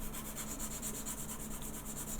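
Sandpaper rubs over the curved plastic surface of an Airfix Doctor Who model kit, the paper flexing to the shape as it is worked back and forth in a steady, close, continuous scratchy hiss.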